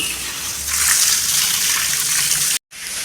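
Water gushes steadily from a sprayer onto garden plants, a broad rainlike hiss that runs close and continuous before cutting out briefly near the end, then resuming.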